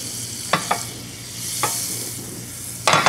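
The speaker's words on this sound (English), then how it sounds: "Pan is nice and hot. Always want to start with your presentation side first. We'll get that in the pan." A Gulf amberjack fillet sears in a hot buttered pan with a continuous close sizzle, punctuated by a few sharp clatters and scrapes as the fish goes in and is settled.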